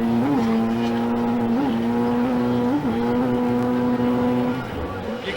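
A personal watercraft racing at a 1996 IJSBA Skat Trak World Finals runs with a buzzing, droning engine that dips in pitch three times as power falters, then fades slightly near the end.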